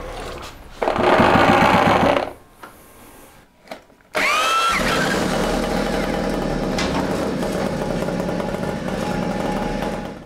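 Puch Maxi E50 moped with a contactless 12-volt Kokusan ignition, a small two-stroke engine idling close by with a steady rough putter, after some brief revving and mechanical clatter at the start.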